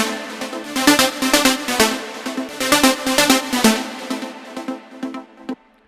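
Bright synth plucks carry the drop of a melodic techno remix of an Afro house track, a rapid rhythmic pattern of short plucked notes that plays loud and busy, then thins out and fades toward the end.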